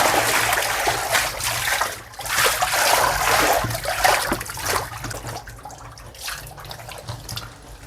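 Used water is poured into a homemade soap mixture of baking soda and bar soap, giving an uneven splashing gush that surges and eases in bursts before trailing off into quieter trickles near the end.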